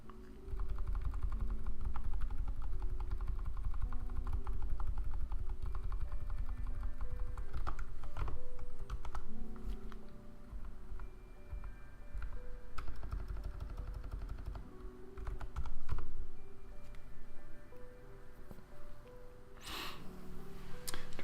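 Typing on a new computer keyboard: a close, steady stream of quick key clicks in bursts, with brief pauses and a few louder taps, and no voices.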